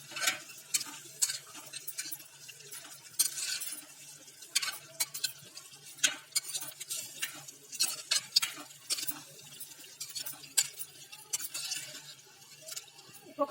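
Spoon scraping and clinking in a pan while chicken curry with turmeric is stirred, quick irregular taps and scrapes at close range, fairly quiet over a low background hum.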